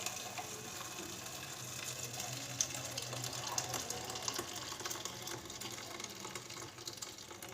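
Soaked wheat drained through a sieve into a container below, the water falling in a steady, even trickle that holds at one level from start to end, with no voices.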